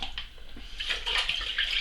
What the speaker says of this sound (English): I'm going to wash it off with just some cold water